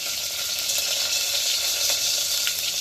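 Curry leaves and green chilies crackle and sizzle steadily in hot tempering oil after mustard seeds, a close, continuous frying hiss with small pops throughout.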